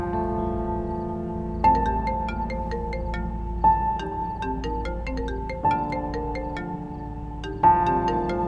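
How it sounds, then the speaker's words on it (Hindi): A phone ringtone plays a repeating electronic melody, restarting in regular cycles about every two seconds, steady and clear with no voices over it. "किसका फोन है?"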